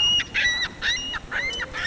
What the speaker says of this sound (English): Now the ducks are going.